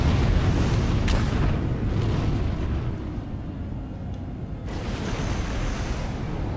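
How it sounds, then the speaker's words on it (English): A space mine detonates during a Star Wars: The Old Republic Galactic Starfighter dogfight: a loud, rumbling blast with a sharp burst near the start and another heavy crack later, over a constant roaring engine bed. "there's another mine detonation"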